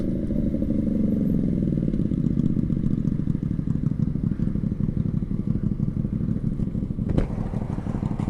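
A 125cc motorcycle engine idles steadily nearby with a busy, clattering mechanical patter and a slight rise in revs early on, alone with no talking.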